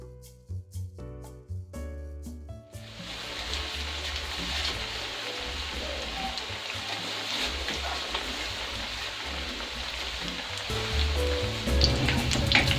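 Chicken Russian kababs fry in a pan with a steady, dense sizzle that starts after a few seconds of quieter kitchen clatter and continues loudly to the end, with no talking.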